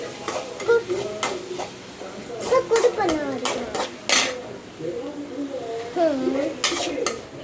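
Onions sauté in a pan for kothu chapathi, with a steady sizzle broken by repeated, uneven scrapes and clinks of a spoon stirring them, close and fairly loud.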